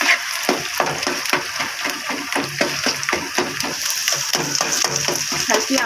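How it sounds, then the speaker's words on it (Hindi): Semolina being stirred into halwa in a pan over a low flame, giving a steady rhythmic scraping and stirring, close and fairly loud over a soft continuous sizzle. "हल्की आंच पे मिक्स करना"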